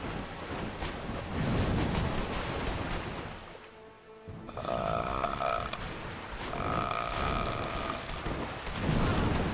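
Water washing and lapping in Dark Souls, a steady broadband rush of waves that dips briefly before swelling again, with a faint low croaking undertone running through the game ambience.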